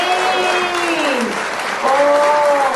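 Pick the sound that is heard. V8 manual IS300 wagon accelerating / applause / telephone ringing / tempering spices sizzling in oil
applause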